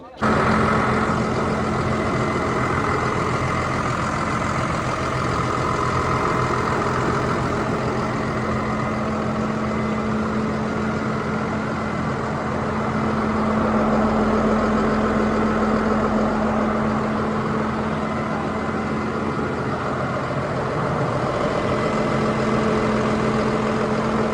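A 2024-model 210 horsepower tractor engine idles steadily and loudly close by, a constant low rumble with a hum that holds for the whole stretch.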